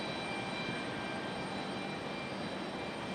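A JetBlue jet airliner's engines idling before pushback at Raleigh-Durham airport in stormy weather, a constant steady whine and hum from some distance, alone without talk.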